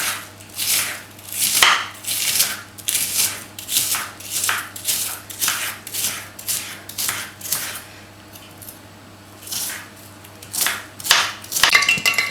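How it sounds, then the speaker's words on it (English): A knife chops ingredients for chicken masala curry on a board, about twenty sharp, close strikes in a steady, slightly uneven rhythm, with no talking. "when you're using a knife to cut them, it's better to cut them quite"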